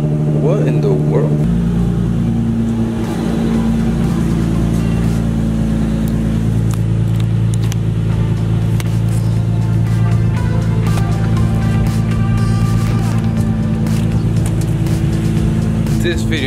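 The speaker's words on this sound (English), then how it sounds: "Since when did you turn on my car now?" An Infiniti G35 car engine runs steadily at idle, giving a loud, continuous low hum with a faint rising note partway through, while a voice talks over it.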